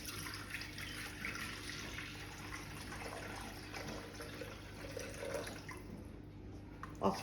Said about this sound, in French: Donc là, je vais mettre 450 g d'eau.